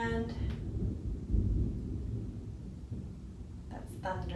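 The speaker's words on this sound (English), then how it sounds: "that's thunder" Distant thunder rolls as a low, broad rumble that swells and fades over several seconds, while a person talks briefly near the start and again toward the end.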